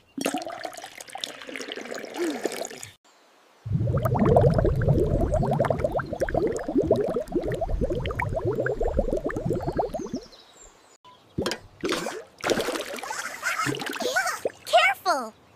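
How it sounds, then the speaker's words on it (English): Layers of liquid, honey at the bottom, are poured slowly into a jar. A long stretch of soft splashing and trickling sits between short breaks, with a voice talking nearby. "Pour slowly so the layers don't mix together."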